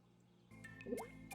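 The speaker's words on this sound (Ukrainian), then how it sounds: "Тепер, якщо все правильно, то ця жижа почне булькати." Homebrew mash of sugar and yeast bubbling in a bucket in the game My Summer Car, heard as a few soft wet blips and a gurgling pop over a quiet hum.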